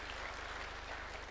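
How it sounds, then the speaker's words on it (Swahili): Faint, distant applause from a crowd at a UDA National Governing Council meeting, a brief steady patter of clapping heard at low level. "Tuwapigie makofi jameni."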